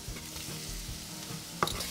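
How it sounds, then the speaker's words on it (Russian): Onion and chopped raw-smoked bacon fry in a pan, a steady soft sizzle with faint stirring scrapes and a brief clatter near the end. "Вот я нарезаю тоже небольшими кусочками и отправлю жариться к луку."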